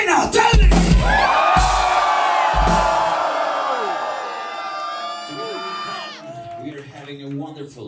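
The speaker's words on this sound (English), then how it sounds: "Now I tell their name and you scream even louder than before." A crowd at a symphonic metal concert in London or Brighton screams and cheers loudly, a sustained roar of high-pitched yells and whoops that swells, holds and then tapers off as a voice speaks.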